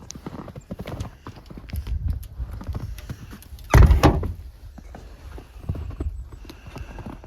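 A shop door is closed in a workshop where a four-cylinder air engine is built, giving one loud, close thump midway through, with scattered shuffling and knocking noises before and after.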